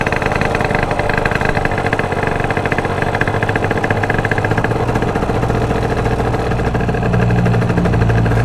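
Honda Elite/Dio scooter engine idling during carburetor tuning, a steady close putter with a fast regular pulse, dropping slightly lower near the end.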